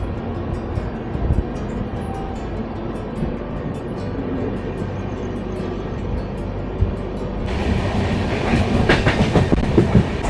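A train pulling out of Hosur station, heard from aboard, with a steady rolling rumble and rhythmic clickety-clack of the wagons that grows louder and brighter toward the end.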